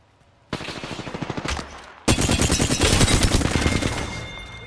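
Rapid automatic gunfire in the video game Apex Legends, one short burst followed by a louder, sustained stream of closely spaced shots that tails off at the end.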